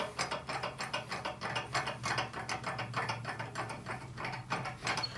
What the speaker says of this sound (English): Don't forget to put your tailstock up.